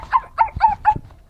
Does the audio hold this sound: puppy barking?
yes